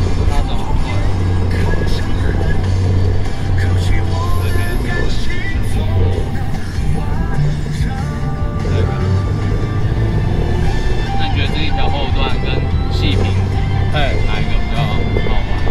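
A car engine revs high in third gear on a fast downhill stretch of a winding mountain road, a loud steady drone with road rumble throughout while people in the car talk over it.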